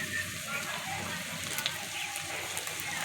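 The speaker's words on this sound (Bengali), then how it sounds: "আলুগুলোকে কেটে নিয়েছি খুন্তির সাহায্যে, একটু ভেজে নিচ্ছি।" Cut potatoes frying in a pan with a steady, close sizzle that runs unbroken for about three seconds, a busy crackle with no voices over it.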